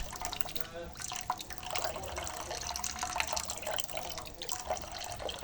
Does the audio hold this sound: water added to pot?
yes